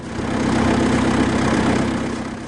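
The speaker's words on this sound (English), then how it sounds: "Let's start with the engine," A New Holland compact tractor engine idles steadily nearby, a continuous low mechanical hum with a constant throb and no voices over it.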